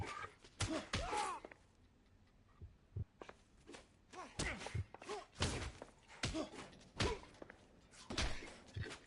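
Punches in a fistfight in the video game L.A. Noire, a series of heavy thuds and blows at an irregular pace, close and fairly loud.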